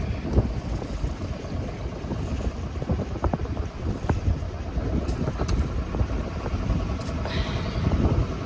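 Continuous low engine drone of a sailboat motoring under engine power, with rushing water and wind buffeting the microphone, steady throughout, no talking.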